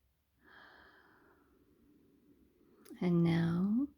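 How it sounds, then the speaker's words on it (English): Slow, deep breathing during a guided lunar eclipse ritual, a soft drawn-in breath stretching over a couple of seconds, then a louder, close breathy exhale with a voiced, sighing tone at the end. "And now we're going to literally take in our breaths and exhale."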